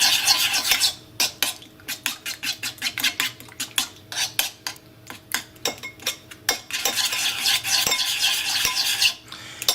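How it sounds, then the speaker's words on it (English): Fiadoe batter, a Surinamese cinnamon fruit cake mixture with lukewarm milk, stirred briskly in a bowl, rapid rhythmic spoon clinks and scrapes coming in close bursts, with no talking. "we're gonna give this a good stir"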